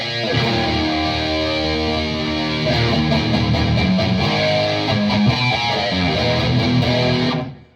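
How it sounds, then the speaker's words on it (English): An electric guitar runs through the main distortion effect of a Roland GP-100 processor, playing loud sustained overdriven chords and notes for several seconds before cutting off abruptly at the end. "let's go to the main distortion"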